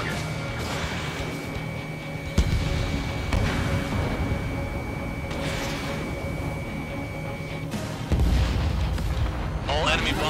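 Explosions from enemy bombers being destroyed in the video game Ace Combat 7, with jet aircraft in a desert mission: booming bursts and rumbling blasts over a constant engine drone, fairly loud and dense throughout.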